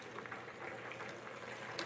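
Really hot water pours steadily from an instant hot water dispenser in a home kitchen, a soft continuous hiss and trickle at moderate distance with no talk.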